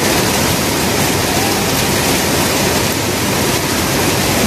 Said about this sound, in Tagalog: Lulusungin natin ng malakas na ulan.